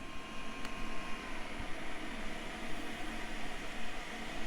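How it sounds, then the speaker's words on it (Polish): A MacBook Pro 15 Retina laptop's cooling fan runs too loud, giving a steady, broad hiss of rushing air. The hiss is fairly faint and close, with a couple of faint clicks. "ten wentylator zdecydowanie hałasuje bardziej niż powinien"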